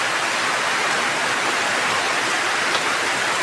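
Heavy rain pounds steadily on a damaged greenhouse roof covered in plastic sheeting, a dense, unbroken hiss of drops with no voices.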